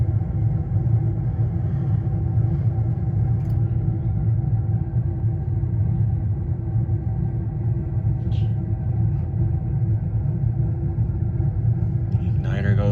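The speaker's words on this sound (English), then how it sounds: "Here's a gas furnace." A natural gas high-efficiency furnace runs with a steady, loud low rumble and hum that holds unchanged throughout, with a few faint clicks over it.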